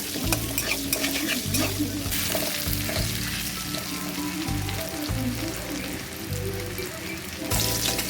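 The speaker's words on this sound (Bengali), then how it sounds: "আলুগুলো ভাজা হয়ে গেছে প্রায়।" Potatoes frying in a pan with turmeric and salt give a continuous close sizzle, with the scrape and clatter of stirring running throughout, loud and with no talk over it.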